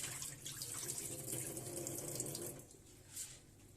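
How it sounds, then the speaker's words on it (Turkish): Water running from a tap into a bowl of red lentils being rinsed, a steady close splashing flow for most of the few seconds, easing slightly near the end. "Tekrar şurada üstüne su eklerim."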